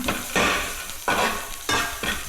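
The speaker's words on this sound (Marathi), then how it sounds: "मसाला टाकला तर मस्त मिक्स करा" A spoon stirs masala into a frying green-chilli filling for mirchi bhaji, making three loud, sweeping scrapes across the pan over a continuous sizzle.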